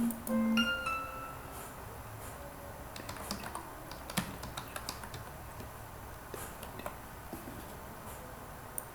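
Someone types a name into an online exam registration form on a computer keyboard, producing quiet, irregular key clicks in quick bursts, heard close with no talking.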